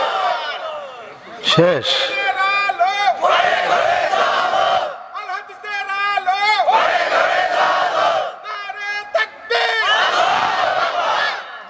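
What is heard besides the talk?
crowd loudly chanting takbir (Allahu Akbar) at a sermon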